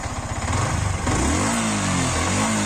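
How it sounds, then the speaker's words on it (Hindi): A TVS Raider 125 motorcycle engine revs hard through its exhaust, its pitch climbing and sliding back down in a loud, close burst after a brief idle. "अभी थोड़ा रेप करके बाइक को चेक करते हैं क्या साउंड आता है"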